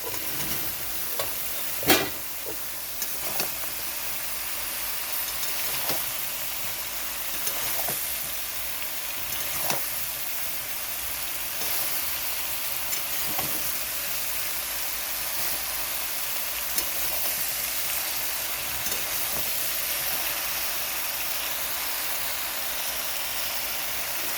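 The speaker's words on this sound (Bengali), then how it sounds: "তো এখন আমি দিয়ে দিচ্ছি ধুদুলগুলো।" Ridge gourd goes into a pan of softened potatoes and well-fried spices for a Bengali ridge gourd and prawn dish. A steady close sizzle runs throughout, broken by a series of sharp spatula knocks and scrapes.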